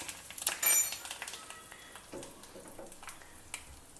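Cumin, a dry red chilli and a pinch of hing sizzle and crackle in hot ghee for Kerala parippu curry, with a louder burst of spattering early on that settles into a soft, steady fry.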